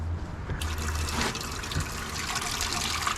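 Running water at an outdoor campground sink used for washing dishes, a steady close trickle and splash from the tap, moderately loud with no talk.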